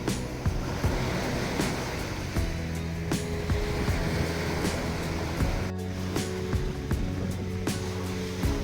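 Surf washing onto the gently sloping beach at Ca Na, Vietnam, a steady rolling wash with repeated soft crashes close by and a little wind, no talking.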